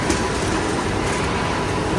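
The last SMT machine on an LG Electronics factory production line gives off a continuous, even mechanical drone with faint rhythmic rattling, loud and close, with no one speaking.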